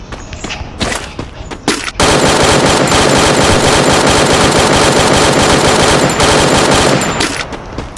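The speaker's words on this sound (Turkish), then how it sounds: "biri sana sıkıyor" Sustained automatic gunfire in a crowded video game battle, loud and nearly continuous from about two seconds on, after a few scattered shots and brief game sounds at the start.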